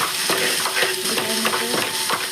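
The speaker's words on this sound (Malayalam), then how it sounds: "തക്കാളി ഇത്രയും കൂടി ഇട്ട് എല്ലാം കൂടെ വഴറ്റി എടുക്കുക" Tomatoes and onions sautéing together in a pan for beef curry, a close, constant sizzle broken by quick rhythmic scraping strokes of a spatula, with no voices.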